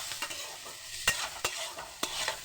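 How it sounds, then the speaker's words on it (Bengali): Vegetables fry for chow mein in a pan on a gas stove, giving a soft steady sizzle broken by several sharp scrapes and clinks of stirring, fairly quiet and close, with no voices. "এবার গ্যাসের ফ্লেমটা বাড়িয়ে দেবো। ভালোভাবে একটু ভেজে নেব।"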